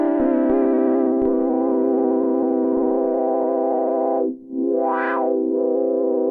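GS Bree6 synthesizer with a single oscillator and filter, giving a lo-fi tape-like tone: a loud, sustained buzzy note that holds steady, briefly drops out, then swells back with a sweeping filter rise and fall.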